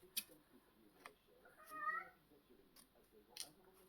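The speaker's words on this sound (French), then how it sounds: "c'est mon chat qui miaule" A house cat lets out one faint, drawn-out meow indoors during a quiet papercraft session, surrounded by small soft ticks and taps.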